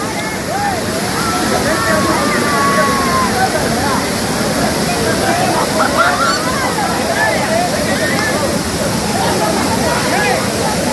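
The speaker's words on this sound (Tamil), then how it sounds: "கொடிவேரி அருவி" Water rushes loudly and continuously at Kodiveri waterfall near Gobichettipalayam, a dense close roar of pouring and splashing. Voices of bathers carry faintly in the background.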